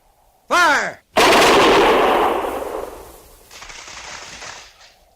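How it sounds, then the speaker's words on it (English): Soldiers fire a rifle volley in a radio drama: a short sharp sound, a brief gap, then one loud blast that echoes and fades slowly into a lower rumbling tail. No voices are heard over the shots. "Prepare to fire. Ready? Fire!"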